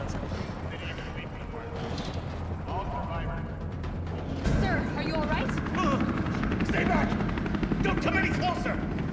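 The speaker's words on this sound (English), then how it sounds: "There's a helicopter waiting to take you to safety." Helicopter in Resident Evil 3 Remake, a dense rotor rumble with bursts of gunfire and explosions, growing louder partway through, with speech mixed in.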